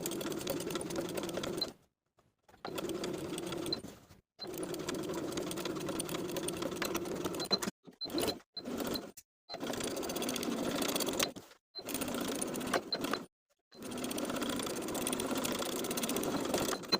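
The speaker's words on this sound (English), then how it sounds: "we're going to sew from waistband seam all the way around to waistband seam, top stitching twice" A sewing machine top stitches a shorts waistband, whirring close and steady in long runs broken by several short stops and quick restarts, with no talk over it.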